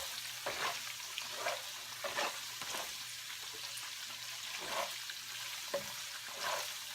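Tofu fries in oil in a pan with a steady soft sizzle, broken by repeated brief crackling bursts and scraping stir sounds, fairly quiet and close with no talking.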